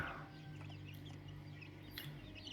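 Week-old chicks kept for shipping peep and chirp faintly at a distance over a low steady hum, with scattered soft calls and no one speaking.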